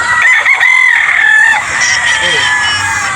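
Gamefowl roosters crow at a game farm, several loud, close crows overlapping one after another with some clucking in between.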